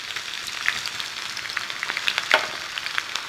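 Sliced onions hit hot oil for a Kerala-style Chicken 65, sizzling in a steady crackling hiss with scattered pops and a sharper spatter near the end, close and fairly loud with no talking.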